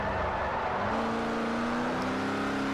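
A race car engine in the Forza Motorsport 4 racing game drones loud and steady, its pitch climbing smoothly as it revs through the whole stretch without any talk.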